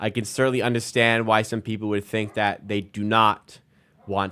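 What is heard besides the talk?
None of the usual background noises is heard.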